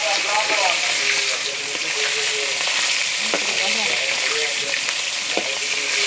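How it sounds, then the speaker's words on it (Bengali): Turmeric- and salt-coated fish sizzle steadily in hot oil, a loud, continuous crackling fry with scattered pops and faint utensil sounds. "দেখেন কীভাবে ফুটছে মাছগুলা তেলে গরম তেলে"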